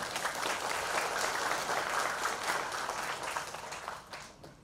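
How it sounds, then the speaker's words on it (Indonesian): An audience at a talk event claps together in a thick, continuous wash of applause, steady and moderately loud, then tapering off near the end without any speech. "Tepuk tangan dulu buat semuanya."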